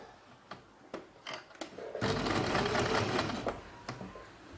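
Sewing machine running a few short stitching bursts on newborn baby pant seams, a quick rapid mechanical whir that swells into a steady two-second run, fairly faint and close.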